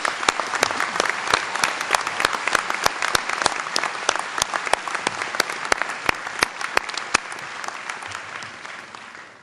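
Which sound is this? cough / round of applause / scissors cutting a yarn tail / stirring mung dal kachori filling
round of applause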